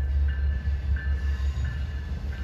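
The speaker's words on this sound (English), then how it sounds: "coming out of the yard at 2:52 is the equipment for train 94, one of those Eastern Suffolk commuter services" Long Island Rail Road commuter train equipment pulling out of the yard at Speonk, a steady low rumble with a faint repeating high squeal from the wheels, continuous and moderately near, no voices.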